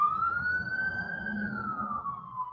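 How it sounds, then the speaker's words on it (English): An emergency vehicle siren passes outdoors, its steady wail rising slightly and then falling as it goes by over low traffic rumble. "now we've got a siren going past"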